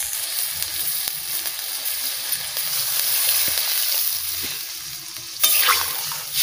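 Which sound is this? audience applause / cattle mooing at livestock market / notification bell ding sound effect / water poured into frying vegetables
water poured into frying vegetables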